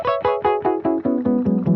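Hologram Microcosm multi-delay pedal with its activity knob fully down: a short, sparse guitar phrase of about nine plucked notes stepping downward, each trailed by a thin delay repeat, steady and close.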